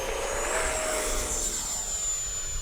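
An FMS Viper RC model jet flies past with landing flaps down, a steady high-pitched ducted-fan whine with a faint tonal line, continuous and moderately near throughout.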